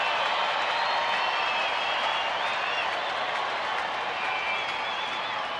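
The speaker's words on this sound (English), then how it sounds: "Crowd being implored by Chuck Morgan to make some noise," A large baseball stadium crowd at a Tigers at Rangers game makes a dense, steady roar of cheering and clapping that holds at full loudness throughout.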